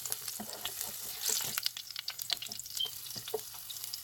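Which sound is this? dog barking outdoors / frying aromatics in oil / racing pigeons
frying aromatics in oil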